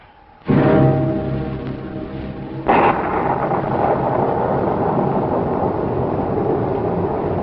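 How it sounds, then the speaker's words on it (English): A sudden loud roar of storm wind bursts in and keeps raging, with a second gust surging harder a few seconds later; no voices. "The wind's ripping everything apart."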